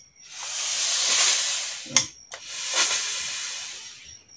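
A steam iron pressing trousers lets out a long hiss of steam, then a couple of sharp clicks and a second hissing burst, close and loud with no voices.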